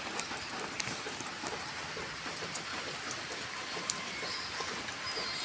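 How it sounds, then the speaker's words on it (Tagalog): Steady rain pattering on surfaces outdoors, dense and even, with scattered sharper drips ringing out close by throughout and no talking. "Sige man gaulan diri sa amua oy."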